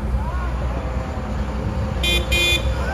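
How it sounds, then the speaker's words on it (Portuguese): A motorcycle horn sounds in two short bursts near the end, over loud street and traffic rumble. "É, buzina de moto."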